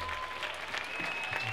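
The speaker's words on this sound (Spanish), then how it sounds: "Un aplauso muy fuerte" An audience in a conservatory concert hall claps during a pop festival concert, the applause continuous and moderately loud, with a faint sustained tone running beneath it.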